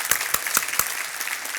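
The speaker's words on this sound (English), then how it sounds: "Give her another round of applause there" Applause from a breakfast event audience, with several sharp, distinct hand claps standing out over a dense bed of clapping across a short burst.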